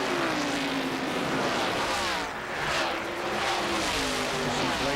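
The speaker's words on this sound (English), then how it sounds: "those cars are flashing by, over 190 miles an hour when they come by that camera" Race cars in a 1997 ARCA stock car race at Atlanta Motor Speedway scream past at over 190 mph, their loud engine roar rising and falling as they sweep by the camera in quick succession, with no talk over it.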